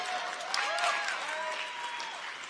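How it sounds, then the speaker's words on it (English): Audience applause during a talk, faint and steady clapping with crowd murmur and some voices mixed in, sounding somewhat distant. "thanks for the round of applause"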